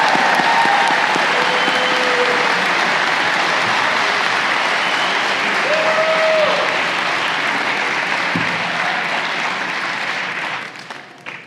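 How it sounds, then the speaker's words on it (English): A large crowd at a fire and EMS academy graduation ceremony gives a long, loud, dense round of applause for the fire graduates, with a few whoops, thinning out in the last seconds. "One more round of applause for our fire graduates."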